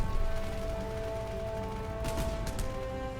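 A 3-inch naval gun fires in a boat-crew combat video game, giving two quick, sharp bursts of fire over a steady, loud engine and sea drone.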